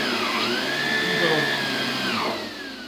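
A ProTeam 1500XP vacuum cleaner runs loud and close with a steady motor whine and airflow roar, its pitch dipping and rising slightly as it works before the level eases near the end.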